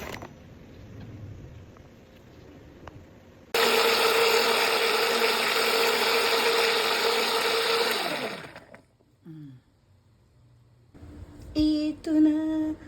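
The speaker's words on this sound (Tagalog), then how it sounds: "Then blender na natin." Blender runs loud and steady for about four seconds while blending a blackberry fruit smoothie, then winds down and stops; brief clinks follow.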